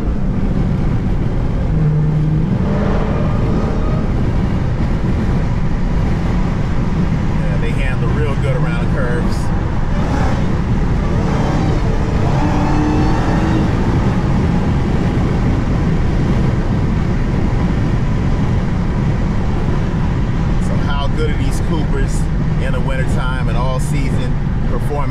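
A Dodge Charger Hellcat on all-season performance tires cruises on a highway, its loud, steady road and engine drone filling the cabin continuously while someone talks over it.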